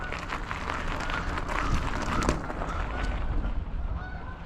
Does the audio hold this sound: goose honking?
yes